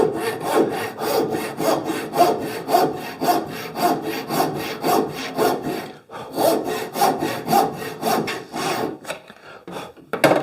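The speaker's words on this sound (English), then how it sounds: "sawing down the opposite side" A hand saw cuts through a piece of timber held at about 45 degrees, steady rhythmic back-and-forth rasping strokes, close and continuous until a brief pause and a few final strokes.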